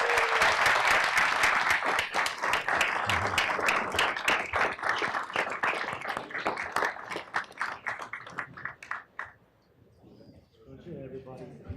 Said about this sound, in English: can we please once again give all of these folks standing behind me a huge round of applause?